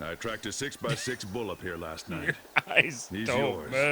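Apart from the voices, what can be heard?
No everyday noise stands out behind the speech.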